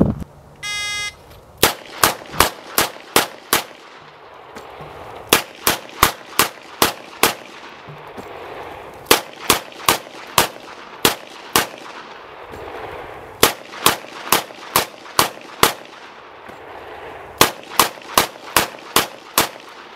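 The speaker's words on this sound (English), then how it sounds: "he fired 30 rounds from a 6-shot revolver, simply discarding it as it emptied and retrieving another from his book bag" Several 6-shot revolvers fire in fast strings of loud, sharp shots, six at a time, with short pauses as each empty gun is swapped for a loaded one, about thirty rounds in all, with no talking.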